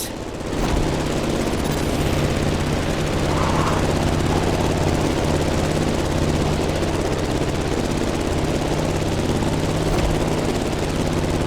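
A propeller airplane engine in the racing game The Crew Motorfest gives a loud, continuous throbbing drone that stays steady and close throughout, with no speech over it.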